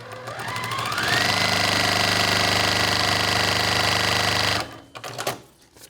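A sewing machine stitches fabric onto foundation paper in a loud continuous whir that rises to speed, runs steadily close up for a few seconds, then stops with a few short clattering bursts.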